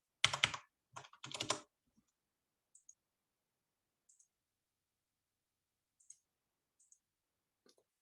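A g++ command typed on a computer keyboard, a quick cluster of clicky keystrokes at the start, then silence with a few faint isolated clicks, close and quiet.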